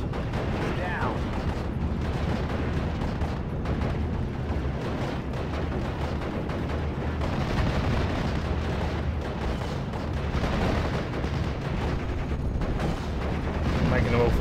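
Mortar fire in the Steel Division World War II strategy game keeps up a dense, continuous rumble of distant booms and battle noise, with a voice talking over it throughout.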